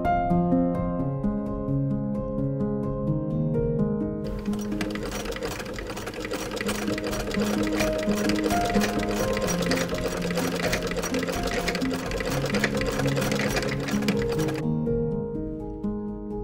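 A sewing machine seams the hood and sleeves of a Victorian-style robe, running as a fast, even hum of rapid stitching close up. Quiet music continues under it throughout.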